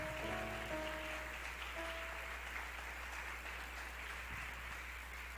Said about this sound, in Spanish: Dale otro fuerte aplauso al Señor,